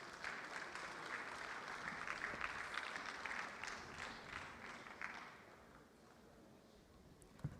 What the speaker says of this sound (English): manent Secretary of Justice, Titilayo Shitu, with a resounding round of applause.